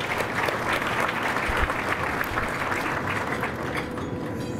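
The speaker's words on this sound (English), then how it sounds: "So if we could give them a round of applause as well." An audience at a lunch keynote applauds the sponsors with a steady, moderately distant round of clapping, unbroken and even throughout.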